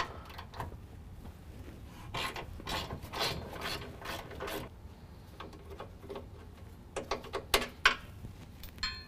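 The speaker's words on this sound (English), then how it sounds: "right above our tailpipe, there's going to be two 15 millimeter bolts, and we need to remove both of those." A ratchet clicks close by as the 15 mm bumper bolts come out of a 2017 Ram 1500, with bursts of turning and metallic ticking and a few sharper clinks near the end.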